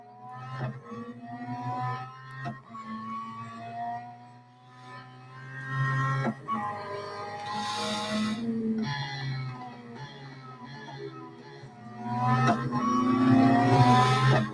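A Ferrari F8 Tributo races in the Real Racing 3 mobile game, its engine note rising and falling through gear changes and revving, fairly quiet and steady, with no one talking.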